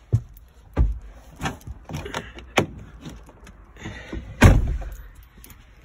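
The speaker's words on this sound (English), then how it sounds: "I need to close the door." A 2019 Volkswagen T6 van door thumps shut among several knocks and clunks, with a louder slam near the end, no talking.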